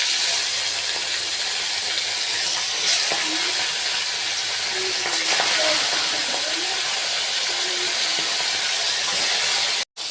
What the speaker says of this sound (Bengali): ছেড়ে আমি ভেজে নেবো মাছ।